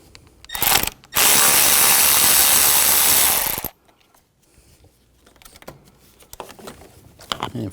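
A power tool drives a T20 socket to remove side screws on a 2004–2009 Audi A4. After a brief ratcheting click, a sustained loud whirring burst runs for about two and a half seconds, then tapers into faint clicks and handling noises.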